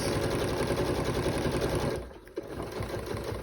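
A sewing machine runs steadily stitching a quarter-inch seam through several fabric layers, a rapid even whirring that stops abruptly near the end, followed by a faint click and quiet handling.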